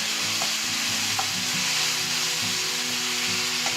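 Onions sautéing in a pan for an egg masala, a steady close sizzle of frying with repeated stirring scrapes in a loose rhythm, no voices.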